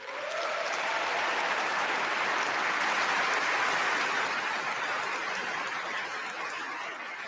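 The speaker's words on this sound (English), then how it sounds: "And after warm applause," Warm, sustained applause from a large audience at the Nobel Peace Prize ceremony for Maria Corina Machado, a dense steady clapping that swells and slowly fades over several seconds, with no speech.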